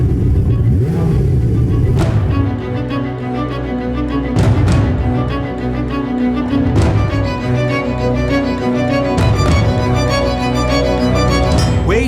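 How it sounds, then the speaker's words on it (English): A Ferrari 488 Pista engine with a shorter air intake and new manifold revs hard and close, rising and falling in several sharp bursts with a bright, harmonic howl and no talk. "The sound of the new special version is unmistakable at all engine speeds"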